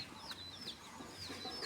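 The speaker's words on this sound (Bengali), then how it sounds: "বাচ্চাগুলো কত সুন্দর দেখছেন, গ্রামের দেশি মুরগি এগুলা" Village desi chickens with their chicks cluck and peep, a few short chirping calls repeating near the listener over a soft outdoor background.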